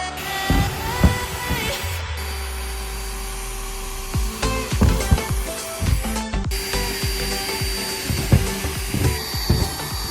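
A drill whirs and grinds while drilling a hole in a van for a Maxxair fan install, steady with bursts of harder cutting and scraping, close and loud throughout.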